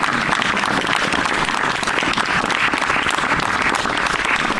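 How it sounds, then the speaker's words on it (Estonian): An audience applauds at an outdoor summer theatre performance with steady, dense clapping from many hands, loud and sustained throughout without a break. "Jaa, aplaus, aitäh!"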